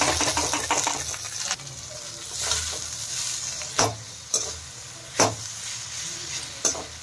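Grated potatoes with curry leaves and turmeric frying in a pan, a continuous sizzle with rhythmic scraping stirs and several sharp knocks of the spoon against the pan, close and clear.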